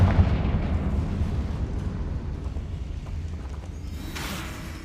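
The Confringo fire spell detonates in Hogwarts Legacy, deep in a goblin mine, as a loud, booming blast with a heavy low rumble that slowly decays over several seconds, followed by a brief hissing whoosh near the end.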